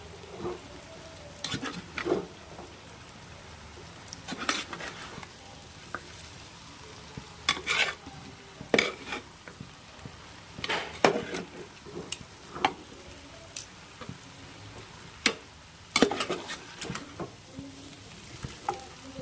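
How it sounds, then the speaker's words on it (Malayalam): Fried chicken pieces are stirred into a green masala in a pan, sounding as repeated close scrapes and clatters of a spoon at irregular intervals over a soft, steady background sizzle. "ചിക്കൻ നന്നായിട്ട് ഇളക്കി കൊടുക്കാം."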